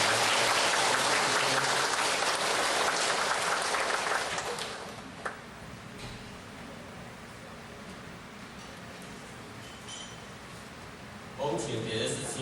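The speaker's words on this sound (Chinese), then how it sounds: "我们以热烈的掌声" An audience applauds loudly to welcome a lecturer, with dense steady clapping for about four seconds before it fades into room murmur, then a brief renewed burst near the end, with speech mixed in.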